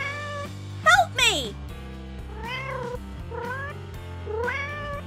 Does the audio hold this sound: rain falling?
no